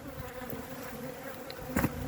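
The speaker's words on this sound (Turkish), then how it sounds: "arı hala dışarıda" Close, continuous buzzing of many honeybees around a basket hive, a steady drone with a louder burst near the end as one passes by.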